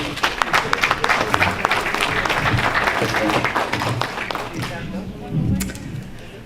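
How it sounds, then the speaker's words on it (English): An audience at the Ijaw Diaspora Convention 2022 claps to welcome a foundation's chief executive to the stage. Dense, loud applause fills the whole stretch and fades slightly near the end, with voices mixed in. "Please just welcome her by clapping"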